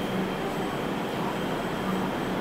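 A Kolkata Metro train at Noapara station gives off a dense, steady rumble and hiss, loud and unbroken, like a carriage running or idling at the platform.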